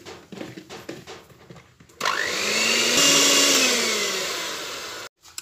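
An electric mixer whirs steadily for about three seconds as batter for a candle-shaped dessert is mixed. The whine rises and then holds, after a few soft clinks and handling noises at the start.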